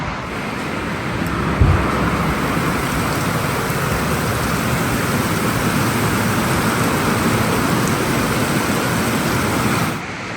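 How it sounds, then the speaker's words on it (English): Heavy rain drums loudly and steadily on a roof or hard surface, a constant roar filling the space from start to finish. "If you all can hear this rain"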